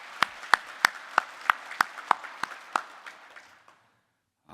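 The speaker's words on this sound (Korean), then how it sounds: "하나님께 감사의 박수 해드리겠습니다." A church congregation claps in unison during a Thanksgiving service, about a dozen sharp, evenly spaced claps that gradually fade out and end in silence.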